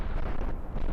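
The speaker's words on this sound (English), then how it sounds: "Another explosion." A rocket explodes in Kerbal Space Program, giving a short, muffled boom with a low rumbling roar that lasts under a second at modest volume.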